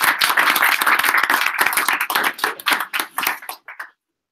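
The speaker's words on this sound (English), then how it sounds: "Another round of applause." A room full of people gives a round of applause after final team presentations, dense clapping from many hands that thins out and trails off to silence near the end.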